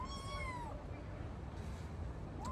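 A cat gives a single clear, drawn-out meow at close range indoors, followed by quiet room noise and the start of another faint call at the very end.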